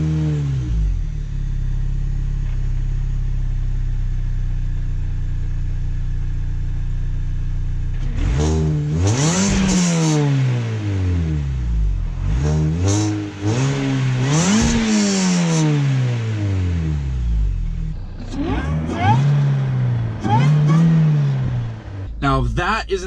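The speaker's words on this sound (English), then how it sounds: "that's the stock exhaust on this car, and then that is the little blower whine" A stock-exhaust Mini Cooper S runs with its supercharger whining, steady idle giving way after several seconds to repeated loud revs that rise and fall in sweeping waves, close and dominant.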